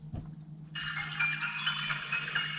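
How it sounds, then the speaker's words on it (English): Activation chime from a Legend of Zelda Sheikah rune 15W wireless charger as a phone is set down: a soft thump, then a sustained bright, shimmering electronic tone that holds steady, quiet and alone. "when I put the phone on the charger, the lights and the sound activate"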